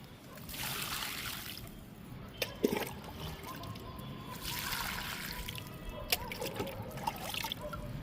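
Water pours and trickles into potted fruit plants in two long, steady bursts, with soft splashes and a few light knocks between them, close by.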